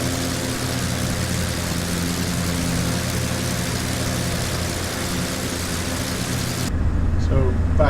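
Steady low engine drone of a light aircraft descending toward Milford Sound Airport, continuous and loud throughout, with a sudden change in tone near the end.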